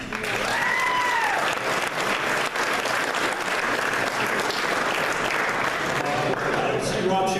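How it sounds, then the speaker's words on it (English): A gala crowd gives a sustained round of applause, dense, even clapping that fills the room at a steady loud level for several seconds, with a few voices and whoops rising over it. "I think it deserves a round of applause"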